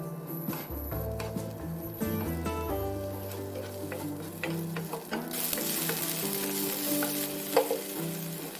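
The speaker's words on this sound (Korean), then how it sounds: "팬에 식용유 두르고 대파와 청양고추를 넣고 중불에 볶아준다." Green onion and chili peppers stir-fry in cooking oil in a pan over medium heat, giving a steady crackling sizzle throughout with light clicks of stirring that grows brighter and louder toward the end.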